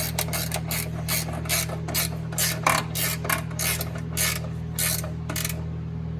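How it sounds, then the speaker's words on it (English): A ratchet tightens down the battery cover on a Subaru Sambar, with a dozen or so quick bursts of sharp metallic clicking in a steady back-and-forth rhythm, close by, over a low constant hum. "Okay, my cover is going back on. Just need to tighten it down."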